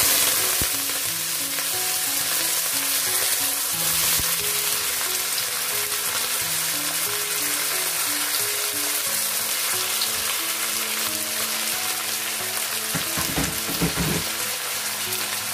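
Onions, ginger, curry leaves and chilies frying in oil with chana dal, a loud constant sizzle and crackle sustained throughout, with a few stirring scrapes near the end, heard up close without voices.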